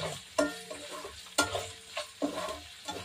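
Pork belly sautéing in a pan with a steady sizzle, punctuated by sharp utensil clinks and stirring scrapes at irregular intervals, close-up with no talking.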